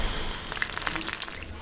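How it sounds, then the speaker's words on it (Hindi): Batter-coated mushrooms dipped in a flour, cornflour and sauce mix sizzle steadily in hot oil during deep frying, giving a continuous close, crackling hiss with small pops throughout. "अभी इसको मैं डीप फ्राई करूँगी।"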